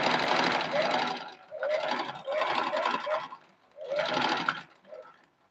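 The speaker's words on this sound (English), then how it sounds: "So let me begin by stitching." A sewing machine stitches Ankara fabric in several bursts of steady close whirring, stopping briefly between runs and ending with a short final burst.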